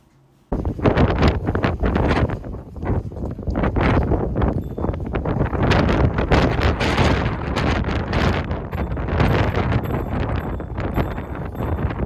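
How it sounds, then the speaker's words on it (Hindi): Strong, steady wind roars and buffets the microphone on the summit of Mount Fuji at night, loud and unbroken, with no voices. "बहुत ही तेज़ हवा चल रही थी"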